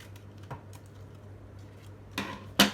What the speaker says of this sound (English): I want to trim my photo down a little bit.